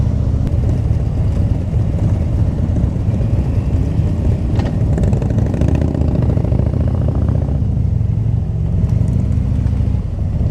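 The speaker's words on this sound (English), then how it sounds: "we're just riding behind Phil on his wide glide" Harley-Davidson Wide Glide motorcycles rumble steadily on an Auckland HOG group ride, a continuous loud low engine drone heard from a following bike, with no talk over it.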